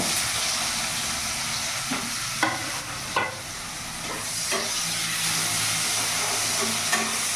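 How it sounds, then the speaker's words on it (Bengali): Onions and two dried chillies frying in a pan after potatoes, giving a steady broad sizzle throughout with a few soft stirring knocks and scrapes breaking through now and then. "এরই মধ্যে আমি এখানে 2টো শুকনো লঙ্কা আর পেঁয়াজটা পুরো ভেজে নেব।"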